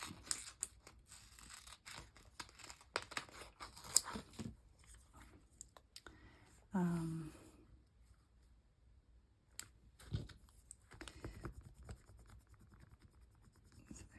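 Scissors cut out a small paper star, giving quiet, scattered snips and paper rustles close up, with a louder crinkle midway and soft clicks between cuts.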